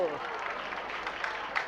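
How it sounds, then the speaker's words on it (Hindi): Audience applause at a Jain religious discourse by a monk, a steady patter of clapping from a gathered crowd, moderately loud and mixed with voices. "जब आरोग्य पाने ये कहा तो तालियां बज गई"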